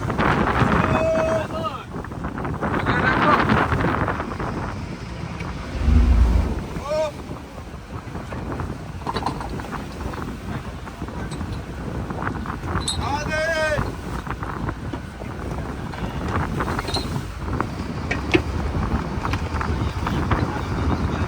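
A local fishing boat at sea off Vanakbara harbour, with waves slapping and spray splashing against the hull amid steady wind rush and engine drone; people talk over it throughout.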